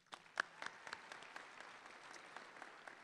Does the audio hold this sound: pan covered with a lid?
no